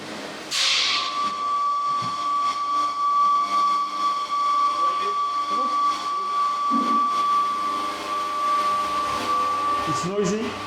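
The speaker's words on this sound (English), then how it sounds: "We centrifuge the wort, and the wort goes into fermentation vessel." A brewery centrifuge processing boiled wort gives off a loud, steady machine hiss with a sustained high whine, and people talk intermittently over the noise.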